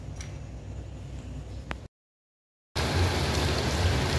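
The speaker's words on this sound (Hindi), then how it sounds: "वापस से बहुत तेज़ बारिश शुरू हो गई है यहाँ पे" Heavy night rain in Tirupur, India, a dense steady hiss of rainfall that cuts out briefly and then returns louder and fuller.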